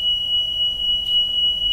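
A shrill, continuous high-pitched alarm tone sounds without pause, loud and piercing, like a fire alarm going off nearby.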